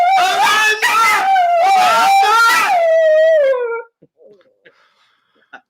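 A dog howls excitedly, loud and near, in one long wavering howl with whimpering breaks that slides down in pitch and then stops, leaving only a few faint small sounds.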